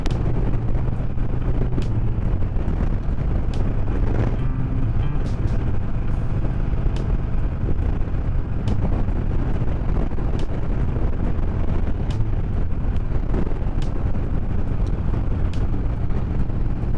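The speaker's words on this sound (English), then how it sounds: "Oh, too bad it's windy." Gusty wind buffets the microphone continuously, a rough low roar with scattered sharp crackles throughout.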